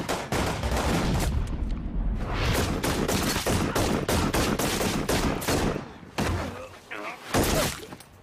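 Gunfire in the shootout scene of the film Wind River: loud, rapid volleys of shots and impacts with shattering and thuds, broken by short pauses, with voices talking over parts of the action.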